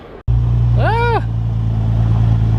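A Nissan 350Z engine hums steadily at low pitch while driving, with a brief tonal whine rising and falling over the engine noise.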